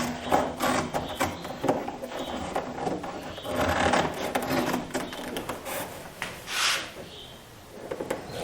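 Rough hand cutting of an exotic hardwood blank for an assembly mallet, a steady rasping saw-like scraping with uneven strokes, close by and moderately loud, amid mechanical rubbing and workshop noise.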